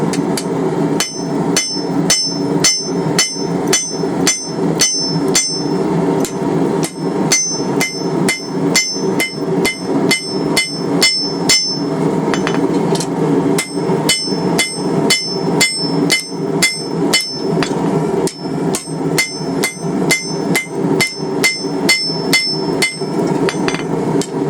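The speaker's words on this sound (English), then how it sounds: "Alright, so now we're going to start beveling it." A hammer forging a bevel onto a railroad spike seax blade, rapid loud ringing metal blows in steady bursts with brief pauses between runs, close and continuous.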